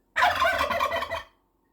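A burst of turkeys gobbling together, a dense rattling chorus lasting about a second, loud and close, then silence.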